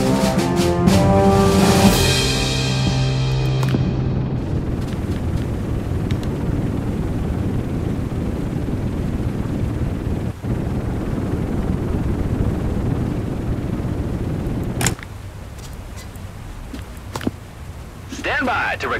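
An aircraft comes in to land on a carrier flight deck in the game Aircraft Carrier Survival, giving a steady, heavy engine roar with wind-like rushing that holds for most of the span, then eases to a quieter hiss near the end.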